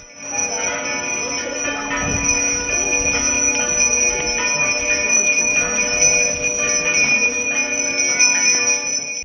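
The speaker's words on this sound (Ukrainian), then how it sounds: "Дзвони нового храму закликали вузлівську церковну громаду на спільну службу Божу." Bells of a new church in Vuzlove ring out for a service, sustained and loud, with steady overlapping tones carrying through the whole stretch.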